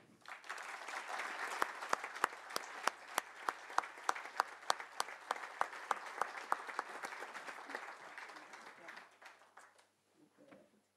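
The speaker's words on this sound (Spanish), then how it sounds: "Quiero que lo recibamos Alejandro Guillermo Ruemers con un aplauso." An audience applauds to welcome a speaker to the lectern, steady mixed clapping with a few sharp, close claps standing out. It swells and then fades away over about ten seconds, leaving near quiet.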